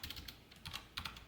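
Quiet, close computer-keyboard typing while code is entered, a few short bursts of soft key clicks in an irregular rhythm, with no talking.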